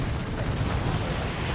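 Battle explosions in the strategy game Warhammer 40k: Dawn of War 2, a dense rumbling wash of blasts and bursts layered together without pause, fairly loud, with no talk.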